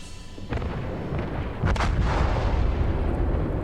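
Battleship guns in a naval video game fire on a cruiser, a loud rumbling barrage of booming shots that swells at about half a second and again near two seconds, heavy and continuous to the end.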